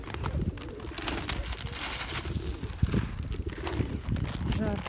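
Pigeons and other birds coo and rustle close by while being fed sunflower seeds in a Moscow yard, with steady background bustle and someone talking over them.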